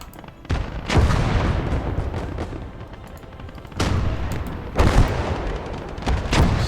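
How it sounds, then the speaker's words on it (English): Artillery fire in a World War II battle video game, a series of loud booming blasts with rumbling tails, spaced a second or more apart. "Enemy artillery"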